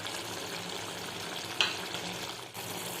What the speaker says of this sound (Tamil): இப்போது கருவாடு நல்லா வேகட்டும்.